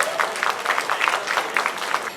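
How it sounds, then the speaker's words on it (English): An audience at the Xavier Youth Festival in Patna claps for a judge, a close, fairly loud burst of uneven, individually distinct claps spread through the room. "Give a huge round of applause for our panel of judges"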